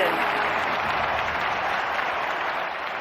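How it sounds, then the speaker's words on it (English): A sparse ripple of crowd applause during a triple jump event in the London 2012 video game, steady hissing clapping lasting a few seconds, fairly loud and alone. "Barely a ripple of applause from the crowd."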